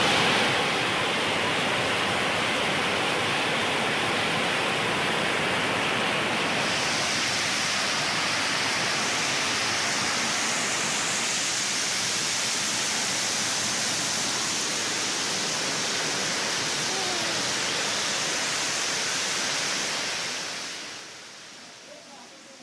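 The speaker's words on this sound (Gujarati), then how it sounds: "એકવાર પાણીનો ફક્ત અવાજ તમને સંભળાવવો છે કે કેવો પાણીનો એ ધસમસતા પ્રવાહનો અવાજ આવે છે." Monsoon rainwater rushes down Girnar mountain near Junagadh, Gujarat, as a steady, loud, broadband roar of torrent water. It holds for about twenty seconds and then falls away at the end.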